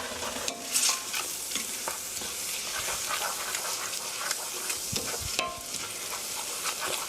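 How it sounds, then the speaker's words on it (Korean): Glass noodles for japchae stir-fried in a pan, sizzling close up with busy scraping and tossing of the utensil, a continuous crackling hiss and no voice. "당면에 간이 스며들 수 있게 한 2미닛 2분 정도 볶아주세요"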